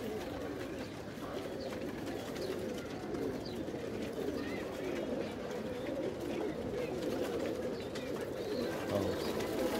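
Pigeons coo steadily in a rooftop loft in the late afternoon, including a blue male courting. The soft, continuous cooing runs throughout at a moderate distance, with no talk over it.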